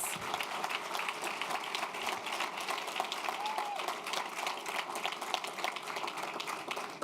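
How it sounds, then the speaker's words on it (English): An audience at a school district Teacher of the Year announcement applauds the secondary teachers honoured there, giving a sustained, even round of clapping from a large crowd that fills the whole stretch. "Let's give all of our Secondary Teachers of the Year a round of applause."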